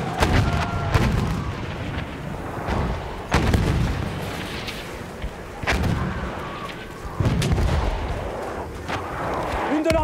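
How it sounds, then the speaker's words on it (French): Battlefield 1 combat on Fort de Vaux: repeated heavy booming gunfire and distant blasts arrive in irregular bursts over a constant rumbling battlefield bed, loud and close. "Mitrailleuse"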